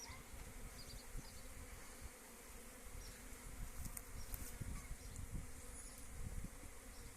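A dense, steady hum of many honeybees buzzing all around at an apiary in spring, continuous and fairly close, with no voices.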